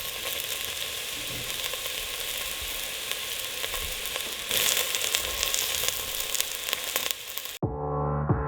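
Ingredients sauté in olive or avocado oil while pumpkin soup, roasted veggies and apple onion pork chops are cooked, giving a loud, steady sizzle that swells midway and then cuts out abruptly near the end.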